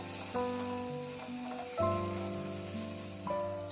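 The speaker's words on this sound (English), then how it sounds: "Now saute until the raw smell goes away." Ginger-garlic paste and onions sauté in a pan for veg pulao, giving a soft, steady sizzle beneath prominent tonal background music.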